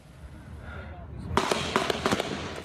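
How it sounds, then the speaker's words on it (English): A burst of rapid sharp pops, like distant gunfire, rings out in Alexandria over muffled background noise, captured on a cell phone. "the chilling moment that rapid gunfire broke out in Alexandria this morning."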